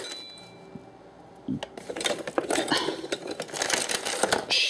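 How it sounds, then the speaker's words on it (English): Bags of screws rattling as they are handled: close metallic clinks and jangling chinks in irregular bursts, growing busier and louder after a quiet start, without talk. "Bags of screws."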